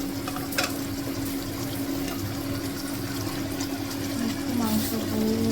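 Chicken curry simmering in a covered pan after water is added, giving a steady close bubbling and sizzling hiss with a constant low hum underneath, some faint clatter, and a voice talking over it.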